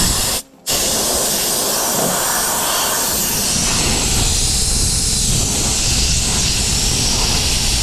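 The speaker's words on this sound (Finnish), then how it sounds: "Pannaan vähän paineilmaa." Compressed air blasts over a rusty refrigerator's coil during servicing, a loud, close, continuous hiss broken by one brief pause near the start before the jet resumes steadily.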